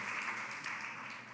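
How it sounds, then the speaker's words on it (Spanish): A brief burst of crowd applause in a Baptist church service, a dense wash of clapping heard faintly as if from a distance. "También un aplauso para ella."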